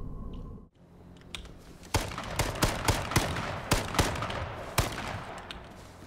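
Gunfire in the online survival shooter game H1Z1: a series of sharp, separate shots in irregular rhythm, fairly loud over low game ambience, with no talk.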